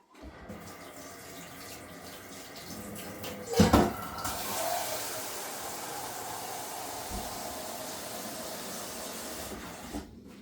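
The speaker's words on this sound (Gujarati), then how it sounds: "ચાલો બટાટાને ધોઈ લઈએ આપણે." Potatoes are washed by hand under a running kitchen tap, a steady close rush of water with a brief louder splash and clatter partway through, and no talk.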